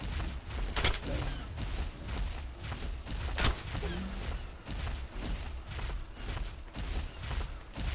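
Gunfire aimed at a dinosaur in the video game Ark Survival Evolved: a steady din of shots and booms with a couple of louder sharp blasts, continuous over the whole stretch.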